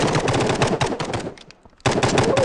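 Automatic gunfire in the video game Prop Hunt rattles out in dense rapid bursts, loud and close, breaking off briefly before another volley resumes.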